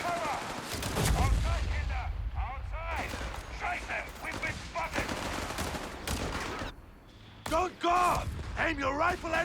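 Rapid bursts of rifle and machine-gun fire from a Company of Heroes 3 battle crackle loudly and continuously, overlapping with voices talking throughout.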